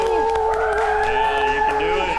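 A small group cheers someone on with drawn-out, overlapping yells and whoops, loud and close, voices rising and falling together in a sustained shout.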